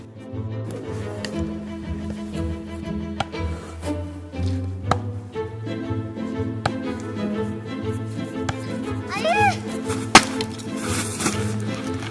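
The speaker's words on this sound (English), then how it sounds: "the boys take the logs and chop them down" Repeated wooden axe chopping thuds on logs at an irregular pace, with splintering cracks, over a steady low hum and background music.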